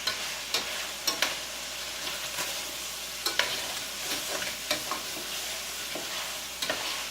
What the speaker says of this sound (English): I'm going to give that a good stir.